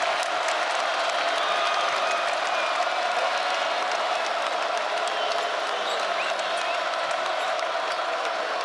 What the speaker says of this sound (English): This crowd trying to come back to life here.